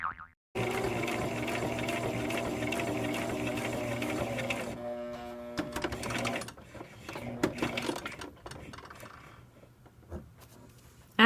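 A sewing machine stitches steadily around a fabric notebook cover, a loud continuous motor whir for several seconds, then slows into intermittent bursts with clicks and handling noises as it stops.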